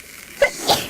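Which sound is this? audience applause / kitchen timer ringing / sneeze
sneeze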